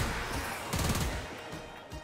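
Continuous automatic gunfire from a weapon in Warframe, a dense loud stream of rapid shots with a sharper burst in the middle.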